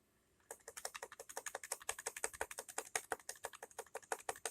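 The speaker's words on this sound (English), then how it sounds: "I think I pressed some F keys I shouldn't have" Computer keyboard keys pressed in a fast, steady run of crisp clicks, close and clear, on an old PC running Windows XP, with no talk.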